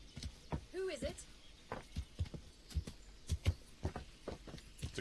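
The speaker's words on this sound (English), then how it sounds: "It's a very crazy guy on a horse." Horse hooves clop in an irregular, moderately loud rhythm on the ground in the medieval game Kingdom Come: Deliverance, with brief speech near the start.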